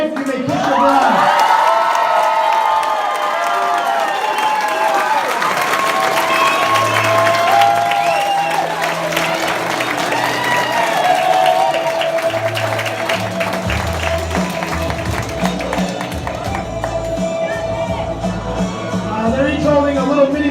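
Wedding guests applaud and cheer after the newly married couple's kiss, a loud, dense wash of clapping with whoops that runs for the whole stretch, mixed with voices and a few shouts.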